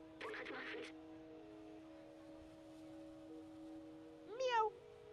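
A cat in the video game Stray meows twice, one call near the start and a rising one near the end, over a steady hum of game sound.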